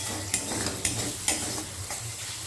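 A spoon stirs beaten yogurt into prawn masala in a hot pan, making several rhythmic scraping strokes about half a second apart over a soft, steady sizzle, heard close with no talking.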